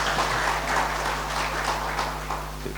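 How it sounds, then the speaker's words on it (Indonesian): Congregation applause during a bilingual church service, a steady broadband wash of clapping that fills the whole stretch at moderate level with small scattered bursts. "Berikan tepuk tangan dulu buat teman-teman kita."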